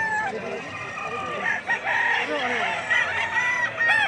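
Several roosters crow in overlapping calls amid clucking and a busy crowd murmur at a livestock market in Padre Garcia, Batangas, fairly close and loud throughout.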